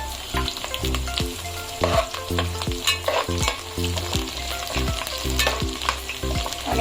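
Golden onions frying in a pan with finely chopped mint leaves, a loud steady sizzle punctuated by a regular rhythm of spoon scrapes and knocks against the pan, close and continuous without talk.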